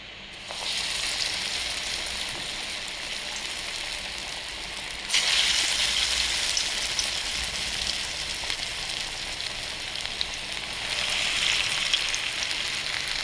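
Pesara punugulu, moong dal fritters, frying in hot oil: a dense continuous sizzle that swells louder as fresh batter drops in around the middle and again near the end, with no speech.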